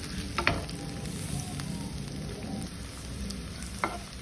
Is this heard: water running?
no